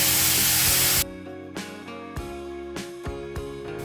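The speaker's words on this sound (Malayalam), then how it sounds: "പാൻ വെച്ച് ഇച്ചിരി ഓയിൽ ഒഴിച്ച് നേരത്തെ അരച്ച് വെച്ച ചട്നിയുടെ കൂട്ട് ഒഴിച്ച്" Ground chutney paste poured into hot oil in a pan gives a loud, hissing sizzle burst for about a second, then cuts off abruptly, followed by sparse clinks and soft bubbling.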